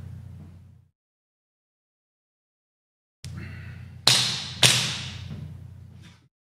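Airsoft gun firing a two-round burst: two sharp, close snapping shots about half a second apart, each with a bright crack, over a low steady hum.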